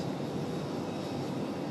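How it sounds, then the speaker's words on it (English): A United Boeing 737 MAX 8 jet arriving from Newark at Raleigh-Durham gives a brief, steady engine rumble, moderately loud and with no voices over it. "United 1975 coming in from Newark"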